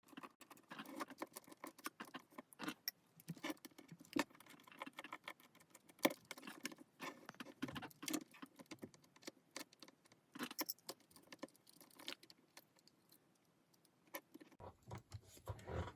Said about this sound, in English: I'm going to grab a screwdriver, and I just want to unscrew all of these little pickups here